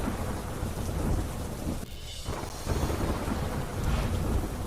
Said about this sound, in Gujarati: અમદાવાદના પૂર્વ વિસ્તાર ઓઢવ વિસ્તારમાં ધોધમાર વરસાદ વરસ્યો